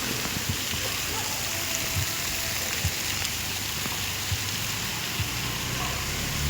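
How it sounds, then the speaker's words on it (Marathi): Heavy rain beats down steadily, a loud continuous hiss with scattered drops pattering close by on a surface. "पाऊस बघू शकता केवढा जोर जोरात पडतोय."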